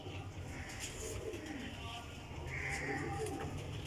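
A Sialkoti Batera pigeon coos softly in a few low, rounded calls against a quiet background, with a voice murmuring faintly nearby.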